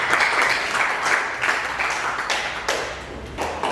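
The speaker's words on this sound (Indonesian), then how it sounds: "Mari kita berikan aplaus untuk kita." Classroom applause, a crowd of students clapping together in a steady dense patter that holds for several seconds at moderate loudness, with faint voices mixed in.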